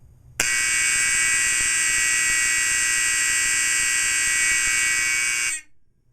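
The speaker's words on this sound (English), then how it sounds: "I'm going to sound my 4051 and my 4040 at the exact same time to see which one's louder." Two Simplex fire alarms, a 4051 and a 4040, blare together in a loud, steady electronic tone that starts abruptly, holds unbroken for about five seconds, then cuts off.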